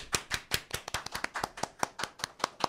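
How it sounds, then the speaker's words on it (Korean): A studio audience at a talk show claps in a brisk, even rhythm, roughly fifteen sharp distinct claps in quick succession, close and clear with no voices over them. "한번 반갑게 한번 박수로"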